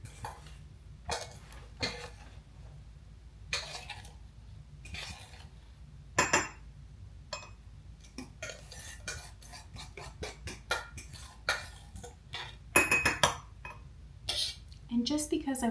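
Keto chocolate mug cake batter scraped into a mug, with sporadic clinks and scrapes of utensil against ceramic, some sharp knocks and quiet gaps between them.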